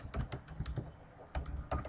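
Fingers type on a computer keyboard in quick irregular bursts of sharp clicks, with a brief pause before a few more keystrokes, close and clear with no talking.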